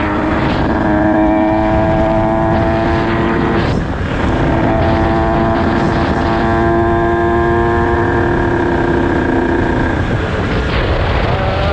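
Motorcycle engine revving loudly and close up during a wheelie, a steady droning roar with shifting harmonic pitch that holds high for almost twelve seconds, with small throttle dips around the fourth and tenth seconds.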